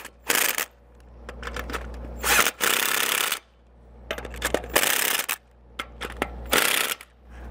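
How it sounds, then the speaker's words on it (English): Lug nuts on a stake pocket spare tire mount being run down with a socket wrench: several bursts of ratcheting, whirring tightening separated by short pauses, close and fairly loud with no talking. "we can tighten them down with our socket"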